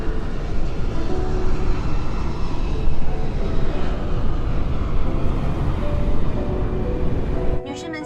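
Airplane cabin in flight shortly before landing, filled with a loud, steady low engine roar that holds throughout, with faint voices at times beneath it.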